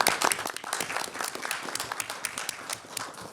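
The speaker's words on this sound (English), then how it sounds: "I just want to give a kind of round of applause" Scattered applause at a county commissioners' meeting, a modest group clapping unevenly with distinct individual claps, strongest at first and tapering slightly.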